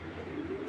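A racing pigeon with fine feathers and a leg tag gives a low, soft coo, close and steady, lasting under a second with no talking.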